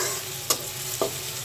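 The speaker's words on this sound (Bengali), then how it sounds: "লাউটা বসানোর জন্য পেঁয়াজ, কাঁচা ঝাল, তেল দিয়ে ভেজে নিচ্ছি" Onions and green chilies fry in hot oil with a steady, soft sizzle, broken by two quick stirring clinks in a short stretch.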